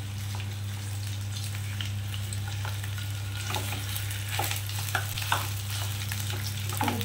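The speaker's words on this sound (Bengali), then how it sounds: "খুন্তি করে করে ভালো করে এটা তেলের মধ্যে মিশিয়ে নিচ্ছি।" A spatula stirring a mixture through hot frying oil on a stove, giving a constant dense sizzle with a low hum underneath and repeated light scrapes and clicks toward the end.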